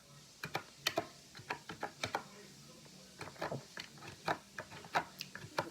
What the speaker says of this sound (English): I'm pressing down all the keys.